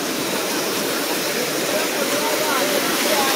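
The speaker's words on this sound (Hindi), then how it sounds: "तो वो सामने ना आबशार के नीचे चलते हैं।" A waterfall in the mountains of Kashmir roars as a steady, loud, unbroken rush of falling water, with a voice partly buried beneath it.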